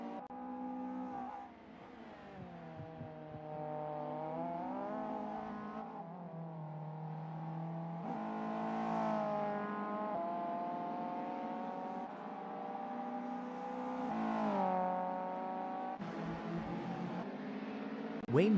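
Mk1 Golf race car engines in a sim racing qualifying session rev hard and shift repeatedly, the tone climbing and dropping through gears as cars pass by, fairly clear with no voices over it.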